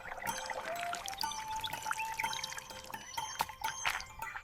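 Water pours and trickles into a small vessel for a little sparrow to drink, a thin rising stream with scattered drips and splashes.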